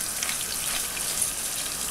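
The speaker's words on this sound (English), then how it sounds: "we'll just saute that for a few minutes." Chilies, garlic, oregano and black pepper sauté with peppers and onions in a pan for vegan Tex Mex rice, giving a steady, even sizzle throughout with no voices.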